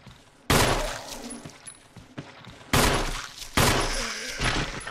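Gunfire in Resident Evil HD as shots hit an enemy, with three loud, abrupt bursts, each followed by a lingering echoing decay, plus faint in-game sounds in the gaps.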